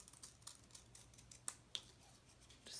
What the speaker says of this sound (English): you can always just take your scissors